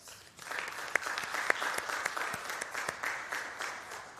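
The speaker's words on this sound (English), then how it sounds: "I think that deserves a round of applause" Applause from the gallery at a Greensboro city council meeting, a steady wash of many hands clapping with a few sharper individual claps standing out, moderately distant and sustained throughout.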